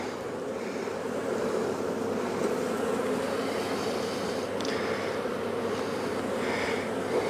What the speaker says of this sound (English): Just pushing those bees out the way.